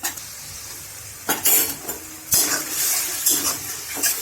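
Gram flour being stirred into a tomato and chilli mixture in a pan, a spoon scraping in short bursts over a low sizzle, close and clear with no talking.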